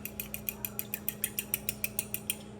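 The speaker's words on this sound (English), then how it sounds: "Adding the pepper in. And whisk it all together." A whisk beats eggs seasoned with pepper in a bowl, giving a steady run of quick, evenly spaced clicks against the bowl, about five per second, close and fairly quiet.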